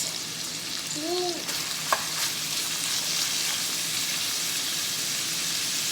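Meat and onion sauté in a pan for shepherd's pie, a steady close sizzle and crackle with a soft utensil clink and brief stirring sounds, quiet and continuous without talk.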